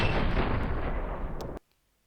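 A DShK heavy machine gun firing in a video game makes a loud, dense roar of rapid shots that holds steady, then cuts off abruptly into near silence.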